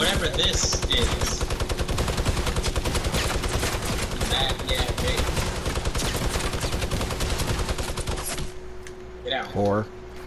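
Rapid automatic gunfire from a video game rattles loud and dense in continuous bursts for most of the stretch, then cuts out, leaving a quieter tail with a few brief voice-like sounds.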